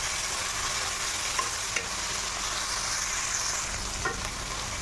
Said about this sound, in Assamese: বিলাহীটো ভালকৈ ভাজি ল'ম।